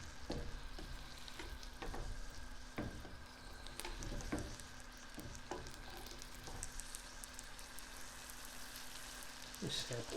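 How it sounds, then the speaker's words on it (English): Food sizzles in a frying pan while being basted, a steady crackling fry broken by repeated scraping and spooning clinks, close and continuous. "And let's do a little basting."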